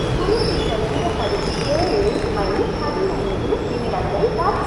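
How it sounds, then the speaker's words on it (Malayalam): The 11013 Lokmanya Tilak Terminus Mumbai–Coimbatore Express pulls in, a steady rumbling roar of rolling coaches with faint wheel squeals, heard from a station platform amid crowd babble. "അപ്പോൾ അങ്ങനെ 11013 ലോക്മാന്യ തിലക് ടെർമിനസ് മുംബൈ കോയമ്പത്തൂർ എക്സ്പ്രസ് കയറി വന്നു"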